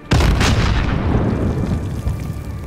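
A heavy explosive blast lands in Call of Duty Warzone, a loud booming impact with a long rumbling tail that stays dense and low for several seconds.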